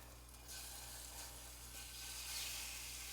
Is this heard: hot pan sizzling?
yes